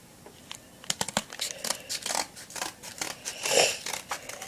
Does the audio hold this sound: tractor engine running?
no